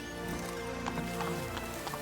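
Horse hooves clip-clop at a walking pace in The Witcher 3: Blood and Wine, an irregular series of light knocks over a steady game ambience and music bed, with no talk.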